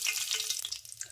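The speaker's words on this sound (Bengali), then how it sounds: "এবার এতে সর্ষের তেল দিয়ে দেব। এর মধ্যে ফোড়নের জন্য দেব গোটা গরম মশলা, দুটো শুকনো লঙ্কা" Whole garam masala and dried red chillies frying in hot mustard oil in a karahi, a steady bright crackling sizzle, close and moderately loud, easing slightly toward the end.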